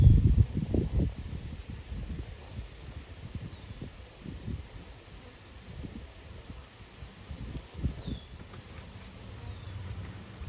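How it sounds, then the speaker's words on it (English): Honey bees hum softly and steadily in the background during a bee rescue, with rustling and brushing noises close by and occasional faint chirps overhead. "Okay, so those are live bees, right?"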